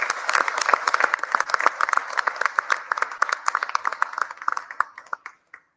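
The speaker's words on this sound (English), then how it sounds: "I just want to give you a round of applause, Doug." A crowd at a Garland County Quorum Court meeting claps in steady applause lasting several seconds, thinning out to a few scattered claps at the end.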